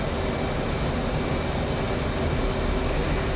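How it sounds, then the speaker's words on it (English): Jet aircraft in DCS World 2.7 climbing out after coming off afterburner, a continuous heavy roar with a thin high whine running through it, unbroken and without speech. "Up we go, and we'll come out of afterburner there"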